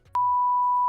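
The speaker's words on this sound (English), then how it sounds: "I can't even time the beeps." A single clean, steady electronic beep from a video game, sustained and loud after a brief soft opening, with no talk.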